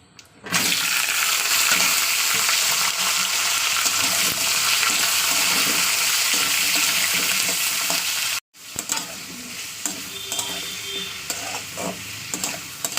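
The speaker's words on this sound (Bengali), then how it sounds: "করলা আলু আর পেঁয়াজ একসঙ্গেই দেবো" Bitter gourd, potato and onion fry together in a pan with a loud, continuous close-up sizzle and stirring scrapes, briefly cutting out near the end before the sizzling resumes.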